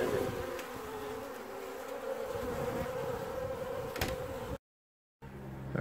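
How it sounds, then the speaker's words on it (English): Honey bees swarm an open bucket of sugar syrup outdoors, producing a steady close buzzing drone throughout, broken by a brief silent gap near the end before the humming resumes. "the bees are still going crazy with the sugar syrup in the bucket"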